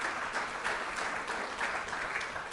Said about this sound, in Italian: Un applauso di quelli